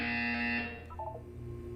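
A single electronic buzzer sounds in a Portal 2 test chamber, a steady tonal blare lasting under a second before cutting off, with a faint softer tone after it; no one talks.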